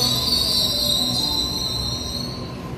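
A Waratah train pulls into platform 21 at Central station, its wheels letting out a loud, sustained high-pitched squeal that slowly fades over a low rumble.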